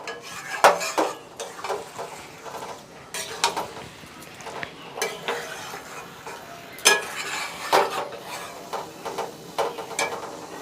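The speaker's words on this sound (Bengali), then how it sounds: "পোলট্রি মাংস কষতে কষতে সেদ্ধ হয়ে যাবে।" Chicken sautéing in a pan for a curry, stirred with a utensil that scrapes and clinks against the metal in irregular bursts, close and moderately loud over a low background sizzle, with no talking.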